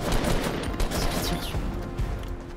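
Rapid gunfire in Fortnite, dense overlapping bursts of shots from several weapons close by, continuous and loud throughout with no pause.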